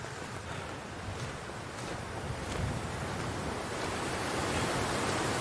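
Wind in the video game The Long Dark, a steady loud roaring rush of cold gusting air with no break, swelling slightly toward the end, and no voices.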